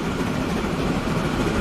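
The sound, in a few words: long train driving by, video game Transport Fever 2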